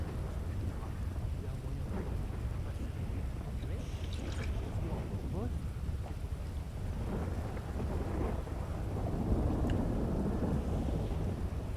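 Rain pours without a break in a video game set during a hurricane, with rumbles of thunder and heavy rainfall filling the background at a moderate, even level.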